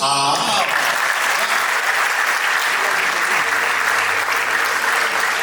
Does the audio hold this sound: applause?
yes